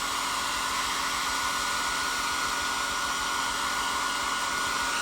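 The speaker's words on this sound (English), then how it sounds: "I'm just going to dry that on the mat with the dryer." A hair dryer blows steadily and loudly close by, drying paint on a hobby diorama, with a constant airy roar and motor whine that holds unchanged throughout.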